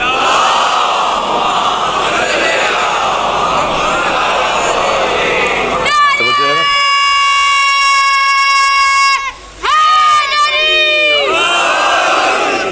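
A large crowd loudly recites salawat in unison, a dense roar of many voices, then shifts into long sustained tones that rise and fall together.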